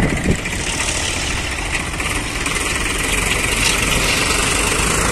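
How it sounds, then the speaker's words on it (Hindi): Tractor engines idle at a riverside sand loading spot, a steady, broad diesel rumble with a vibrating drone that holds fairly loud and unchanging, with no voices heard. "यहाँ पर रेता लेने के लिए बहुत सारे ट्रैक्टर आए हुए हैं"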